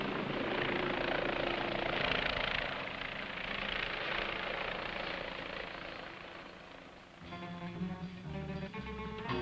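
Westland Wasp naval helicopter departing for the carrier HMS Ark Royal, a steady loud rotor and turbine roar filling the first seven seconds, easing slightly before other tonal engine sounds take over near the end.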